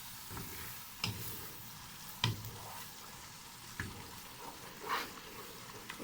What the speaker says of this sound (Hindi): हमारा मसाला भुनना स्टार्ट हो गया है।